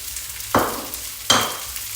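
Vietnamese rice noodles stir-fried with spring onions in a hot pan, two sharp scraping stirs about a second apart, each setting off a loud, close sizzle over a quieter steady frying hiss, with no voices.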